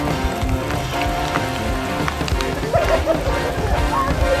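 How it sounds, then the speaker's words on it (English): Rain patters and drums steadily on an RV at a campsite, a dense close wash of drops with wind mixed in and a voice heard over it. "It's raining."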